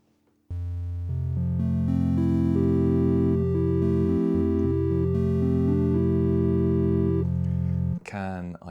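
A Kodamo Mask1 polyphonic synthesizer plays a rich sustained chord progression with shifting inner voices, loud and steady for several seconds before cutting off into a brief voice.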